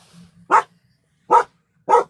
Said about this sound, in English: Oh, the dog is there.